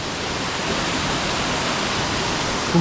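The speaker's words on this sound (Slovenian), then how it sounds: "No, tle pa reka naprej teče." A river rushes steadily near waterfalls, a loud, continuous broadband roar of flowing water with no pauses, heard close and alone.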